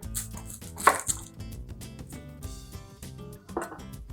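Knife chopping through an onion on a cutting board, a quick run of close, crisp cuts with one louder thunk near the start, no voices.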